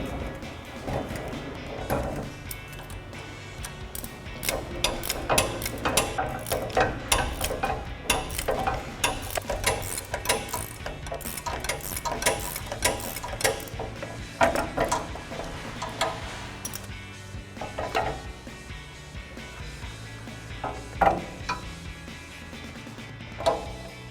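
Rapid ratcheting clicks come close up from a pass-through wrench with an 18mm socket and a 1/4-inch ratchet working a top mount nut off a RAM 1500 strut, in steady bursts with short pauses.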